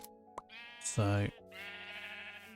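A Minecraft sheep bleats once, a loud nasal wavering cry in the middle, surrounded by someone talking and a sustained synthetic game tone in the background.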